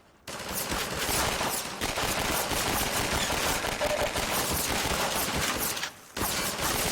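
Dense, sustained automatic turret fire from the video game Half-Life 2: Episode One, a loud continuous rattle of rapid shots running for several seconds with one brief gap near the end.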